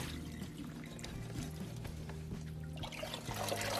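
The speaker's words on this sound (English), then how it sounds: "stop the cooking by rinsing it with cold water from the tap" Cold tap water pours steadily over cooked rice draining in a strainer, a continuous splashing trickle heard close up with no talking.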